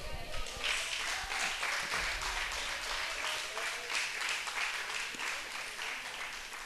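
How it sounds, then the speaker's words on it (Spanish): A church congregation applauds in a long, dense wash of clapping that holds at an even level, fairly distant and reverberant. "Brinden un aplauso al Señor."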